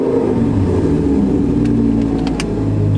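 A twin-turbo Lamborghini engine runs steadily with a loud, constant mechanical drone and a faint whir over it, heard up close with no voices.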